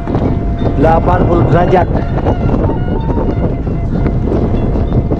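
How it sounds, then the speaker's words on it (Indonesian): Strong wind buffets the microphone on a hilltop overlooking terraced fields at Bukit Panyaweuyan in Majalengka, a loud continuous roar and rumble throughout, with a person speaking over it. "Anginnya sangat kencang sekali."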